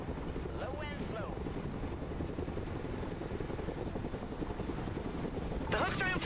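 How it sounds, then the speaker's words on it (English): A Chinook helicopter in the video game Broken Arrow, a steady low rotor drone and engine roar heard up close throughout, with short radio-style voice lines over it at the start and end. "Flying to coordinates. Chinook, at your command."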